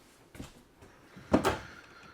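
Kitchen drawers in a 2024 Redwood 4001LK luxury rear-kitchen RV opening and closing, giving two soft, quiet thuds about a second apart with near silence between them.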